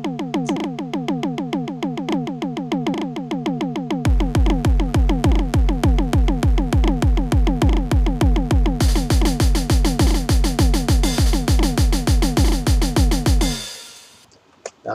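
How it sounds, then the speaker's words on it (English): A fast repeating programmed verse drum pattern builds in layers, kick drum joining partway and bright hi-hats later, ending abruptly with a short quiet tail. "Now, let's program the drums for the verse, which sounds something like this."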